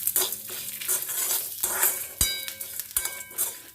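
Spices roasting in a hot pan for instant sambhar, a steady dry sizzle broken by scraping stirs and a few sharp metallic clinks of the spoon against the pan, close and busy throughout.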